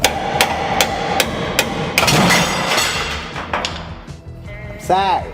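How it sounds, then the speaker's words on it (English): Hammer taps on a rebuilt truck part, several sharp metallic knocks spaced through the clip, close and fairly loud, with people talking over and between them. "You want to just tap on it a little"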